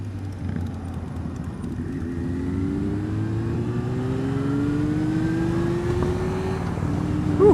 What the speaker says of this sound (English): What is this car doing?